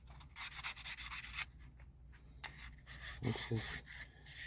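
Fine-grit sandpaper rubs the inside of a ring made from a silver quarter in quick, close scratchy strokes. The strokes pause once, and a voice speaks briefly near the end.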